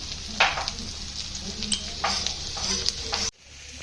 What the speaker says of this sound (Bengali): এদিকে আলু পেঁয়াজ বিট গাজর ভাজা ভাজা ভাজা হয়ে এসছে